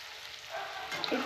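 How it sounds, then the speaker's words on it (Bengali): Spices fry in a pan over a strong gas flame for a fish curry with cauliflower, a soft steady sizzle that swells louder partway through, with a few light crackles near the end. "একটু ভাজা করে নিচ্ছি"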